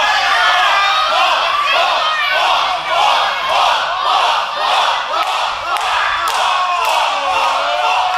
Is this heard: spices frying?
no